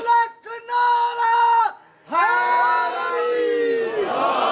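A religious gathering crowd shouts slogans in unison in response at a Rabi ul Awal majlis in Jaffria Colony: loud, massed chanting in two short bursts, a brief pause, then one long sustained call.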